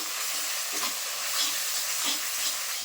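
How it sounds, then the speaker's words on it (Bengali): Spice masala with Kashmiri chili powder fries in oil in a pan for chicken kosha, a dense, even hiss and sizzle with faint stirring swells throughout. "মশলাটা কিন্তু খুব ভালো করে কষিয়ে নেবো যতক্ষণ না মশলা থেকে তেল ছাড়ছে"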